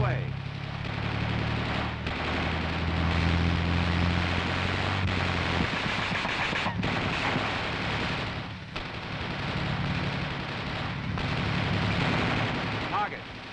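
An M551 Sheridan's coaxial machine gun fires on troops, a dense, continuous roar of bursts mixed with vehicle engine rumble, loud and close throughout.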